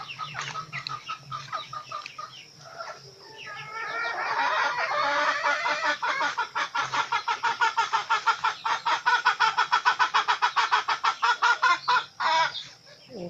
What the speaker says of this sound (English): So now I see the chicken here.